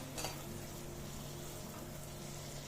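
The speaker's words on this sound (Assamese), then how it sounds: "কেপচিকামখিনিও ভাজি ল'ম" Capsicum frying in a pan gives a steady, soft sizzle throughout, with a brief stirring scrape near the start and no talking.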